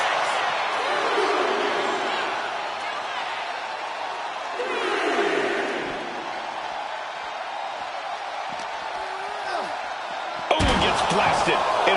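A wrestler is slammed into the steel steps in the WWE 2K26 video game's women's universe mode: crowd roar and commentary voices run throughout, and a sharp, loud crash lands near the end.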